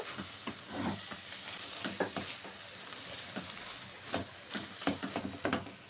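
Ghee and garam masala being stirred into a prawn and banana flower curry in a pan on a gas stove, with a soft steady sizzle broken by repeated scraping clinks of the spoon, no talking.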